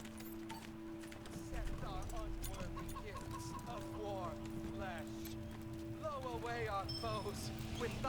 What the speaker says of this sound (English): There's the chicken.